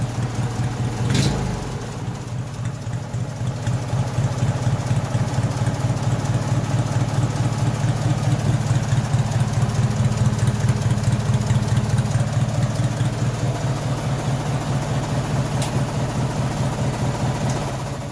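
Racing lawn mower engine with a newly fitted carburetor idles steadily up close, its low thumping tone lobing in a slow, uneven surge throughout, alone without talk.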